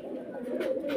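Pigeons coo steadily at a pigeon farm, a low continuous murmur of several birds close by, growing slightly louder toward the end.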